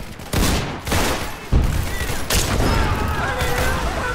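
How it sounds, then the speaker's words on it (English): Loud bursts in a Roblox shooter as a grenade goes off, several sharp booms and crackling blasts around 0.3 s and 1.5 s amid ongoing gunfire, with voices faintly in the mix. "Oh my god, that guy exploded!"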